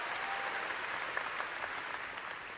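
A church congregation at an Indonesian Independence Day service claps in a steady, dense wash of applause that stays fairly faint and even throughout.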